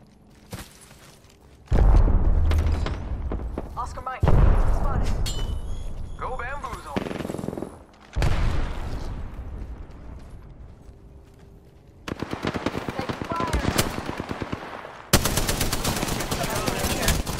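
Apex Legends gunfire arrives in loud, close bursts of rapid automatic shots separated by brief lulls, with players talking over the fighting.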